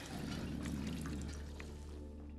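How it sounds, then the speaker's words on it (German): Close-up water pouring and trickling into a vessel, a brief liquid splash and dribble for a quick drink of water, fading slightly toward the end against a low steady hum. "Ich genehme mir mal einen Schluck Wasser ganz kurz."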